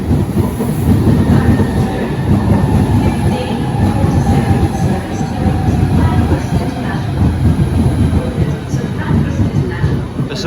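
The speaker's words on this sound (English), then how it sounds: "arriving now is the 1547 Southeastern service to St Pancras International" A Southeastern train arriving at Stratford International station, a loud, sustained rumble with rhythmic wheel clatter and faint squealing, with a station voice announcement partly audible over it.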